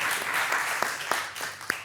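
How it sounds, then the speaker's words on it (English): Brief applause at a city council meeting in Dubuque, a soft blur of clapping from a modest crowd with a few sharper claps standing out, fading toward the end. "I like all the applause tonight."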